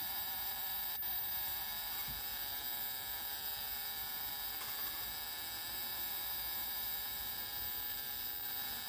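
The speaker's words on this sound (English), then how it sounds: "Definitely does sound like the transformer, doesn't it?" A steady electrical hum from the transformer of an Elektronika VL-100, drawing about 800 milliamps at 12 volts, drones continuously with a faint buzzy, hissy edge, constant in level throughout and no voices.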